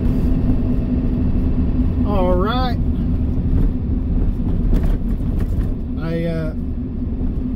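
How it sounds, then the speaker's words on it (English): A truck rolls down a road, its steady engine rumble and road noise droning throughout, with a voice speaking briefly twice over it. "let's go get in the truck and get started and roll down this road"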